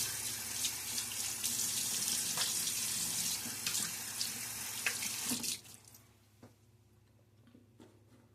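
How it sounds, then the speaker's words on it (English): Water runs steadily from a tap into a sink during a wet shave, with faint splashes and light clicks, then cuts off abruptly, leaving near-quiet with occasional small taps. "Do a quick splash of water."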